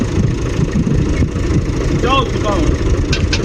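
A farm tractor engine idles with a low, rough rumble while ploughing a field, close and loud under a voice speaking Hindi.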